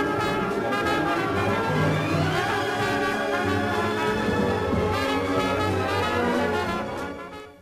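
Symphonic and jazz music play at once from a single stereo record groove, a dense, continuous blend of orchestral and band sounds at steady moderate loudness that fades slightly at the end, with no talk.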